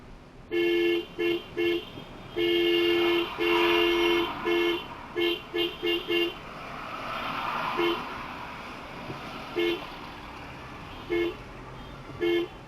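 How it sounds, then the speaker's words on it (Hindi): Car horns honk repeatedly in short and long bursts amid steady road traffic noise on an Indian highway, with a faint voice underneath. "तो हॉर्न देते आ रहे हैं हम"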